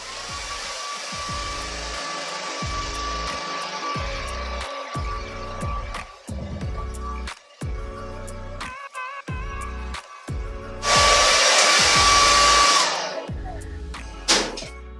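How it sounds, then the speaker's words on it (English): A handheld blow dryer on medium heat and highest speed whirs steadily up close while styling curly, wavy hair, its airflow cut by repeated brief pauses and surging noticeably louder for a couple of seconds near the end. "So it's always good to keep your blow dryer in the medium setting and on the highest speed."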